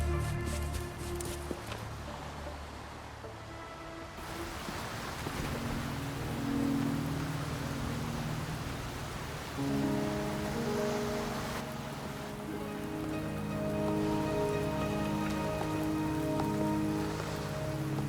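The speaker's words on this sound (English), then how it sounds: "Are you trapped here by the rain?" Rain falls steadily in the video game Wuthering Waves, a soft continuous patter of drops on surfaces with a low background tone and occasional shifts in intensity, no voices over it.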